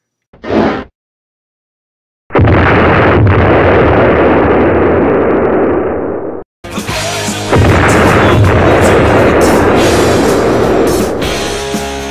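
Loud action-film explosions and heavy blasts from The Expendables 2, a short boom followed by a long roaring barrage of detonations and rumbling fire, dense and continuous with no talking.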